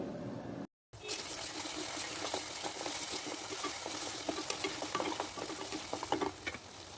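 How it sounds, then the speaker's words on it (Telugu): Onions frying with ginger garlic paste give a close, continuous sizzle with scattered stirring scrapes, after a brief silent break near the start. "చూడండి ఉల్లిపాయలు ఇలా ఫ్రై అయితే చాలు ఇప్పుడు అల్లం వెల్లుల్లి పేస్ట్ వేసి బాగా కలపండి"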